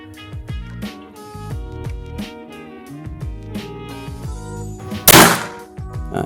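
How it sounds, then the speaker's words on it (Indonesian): A PCP air rifle fires a single sharp, loud shot partway through, a sudden crack over steady background music. "Tembakan keempat."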